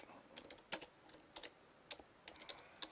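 Computer keyboard typing at a desk while writing a post in desktop software, slow and uneven keystrokes in short bursts with pauses, fairly quiet and close.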